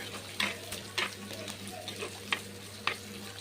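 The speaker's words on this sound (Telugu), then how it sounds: "ఉల్లిపాయ, పచ్చిమిర్చి, కరివేపాకు కూడా వేసేసి మొత్తం కలిపిప్పండి" Onions, green chillies and curry leaves fry with cumin in a pan under a soft steady sizzle, with a handful of scraping stir strokes spaced out over a few seconds.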